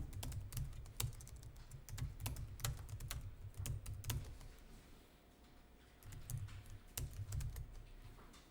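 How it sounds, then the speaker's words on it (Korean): Typing an address on a computer keyboard, with rapid bursts of close keystrokes interrupted by brief pauses, alone without talk. "주소 타자하겠습니다."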